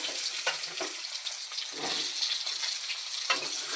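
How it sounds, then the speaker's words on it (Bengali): Steady sizzling of potatoes frying in a pan, with soft stirring scrapes now and then, close and fairly loud, no voices. "আলুটাকে একটু সুন্দর করে লাল লাল করে ভেজে নেব"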